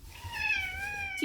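A pet cat gives one drawn-out, slightly falling meow, close and clear against a quiet room, with a faint voice starting right at the end.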